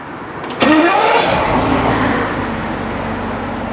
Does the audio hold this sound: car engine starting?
yes